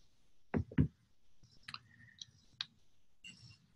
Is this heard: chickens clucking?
no